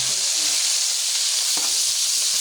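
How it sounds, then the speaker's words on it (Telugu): Onion pieces roast one by one on a stove top while fish curry is prepared, with a loud, constant sizzling hiss and a few brief low thuds as pieces are set down. "స్టవ్ మీద ఇప్పుడు ఒక్కొక్క ముక్క వేస్తుంది చూడండి ఉల్లిగడ్డ కాల్చింది"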